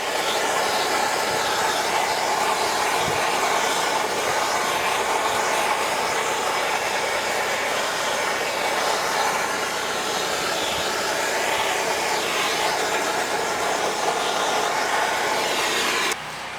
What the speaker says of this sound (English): now I'm going to use a hand torch just to clean it up a little bit.